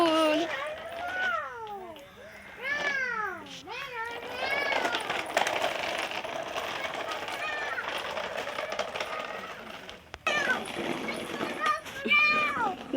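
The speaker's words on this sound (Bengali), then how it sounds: "ও বিড়াল বিড়াল ওই দেখো" A cat meows several times in a row, rising and falling close by, then goes quiet before a few more meows near the end, with people talking around it.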